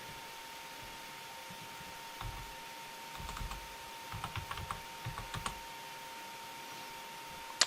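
Keys tapped on a computer keyboard to enter a command in a TCL shell window, short bursts of quiet clicks in irregular clusters over a faint steady hum, with no talking.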